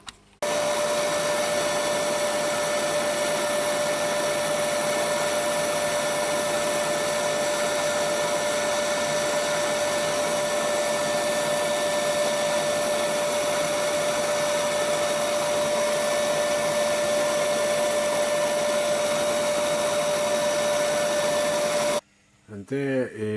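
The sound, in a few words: sanding wood on a lathe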